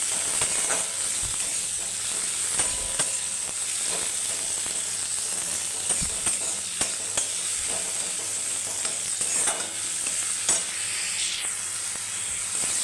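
Tomato with fried onion cooking in a pan for a fish curry, a sustained hissing sizzle with scattered pops and occasional utensil clicks, close and steady, no speech.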